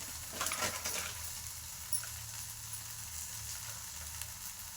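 Tomatoes frying in a little oil for tomato sambar, a soft, steady sizzle with a brief stir near the start, quiet and even throughout, no voices.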